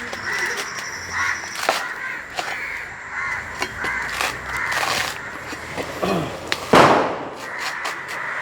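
Crows caw repeatedly nearby, then a single loud, sharp firecracker bang bursts out near the end before the cawing resumes.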